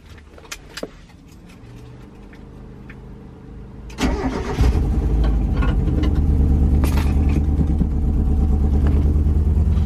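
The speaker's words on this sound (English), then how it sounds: "I'm gonna go ahead and give the car a start" A Mazda Miata engine with a gutted interior cranks and catches partway through, then settles into a loud, steady rumble after some quieter rustling and clicks.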